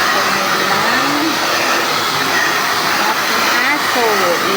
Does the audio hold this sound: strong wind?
no